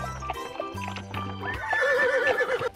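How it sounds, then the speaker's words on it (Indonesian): A Sumbawa horse neighs in a long, wavering whinny near the end, following a steady clip-clop of hooves, all loud and close with no talking. "Sepertinya kuda Sumbawa teman-teman"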